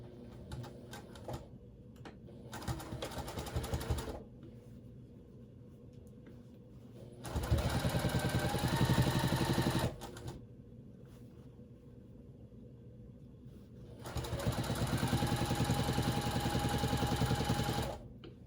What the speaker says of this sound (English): I turn the quilt around, just holding it all in place, and I start sewing on it.